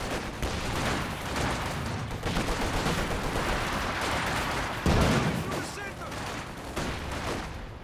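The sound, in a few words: mortar fire in video game Company of Heroes 2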